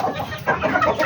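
Egg-laying hens cluck inside their coop, close and fairly loud, with soft overlapping clucks and chatter across the short moment.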